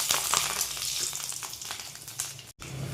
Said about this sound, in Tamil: எண்ணெய் காஞ்சோன்னே நம்ம எடுத்து வச்சுருக்கிற இந்த கடலைப்பருப்பு, கடுகு, பூண்டு, வத்தல் எல்லாத்தையும் உள்ளே சேர்த்துக்கோங்க